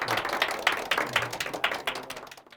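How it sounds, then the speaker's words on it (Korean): Enthusiastic applause from an audience greeting a missionary speaker at a lecture hall event, dense sustained clapping that stays steady and fades slightly toward the end. "우리 열렬한 박수"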